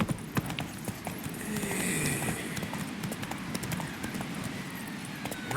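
Roach, the horse in The Witcher 3, gallops with steady rhythmic hoof clip-clops on the ground, close and continuous under faint ambient game sound.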